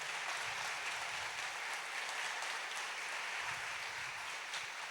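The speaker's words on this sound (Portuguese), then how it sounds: "vamos dar um forte aplauso para quem está em casa" A church audience at a Brazilian evangelical family meeting gives sustained applause, a dense, even clatter of many hands that continues for the whole stretch without any voices.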